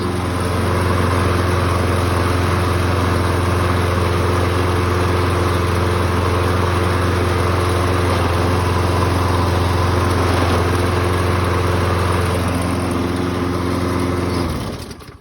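A 2011 Toro 20331 walk-behind lawn mower, with a bad traction cable and burned belt, runs steadily and loudly up close for about fourteen seconds with its wheels turning, then cuts off abruptly near the end.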